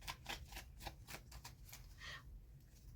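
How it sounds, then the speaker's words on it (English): A deck of tarot cards is shuffled during a reading, a run of quick soft riffling bursts close by, quiet with no talk. "I'm going to shuffle."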